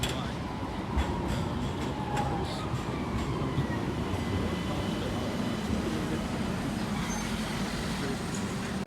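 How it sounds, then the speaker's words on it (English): A tram rolls through a narrow street in Turkey, giving a continuous low rumble and rattle with faint squeals over busy street ambience, fairly close and steady for the whole stretch. "There's one of the trams."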